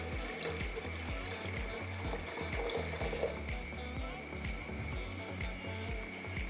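Half a liter of water is poured into a container, a steady gurgling splash running throughout at moderate volume, with a faint hum underneath.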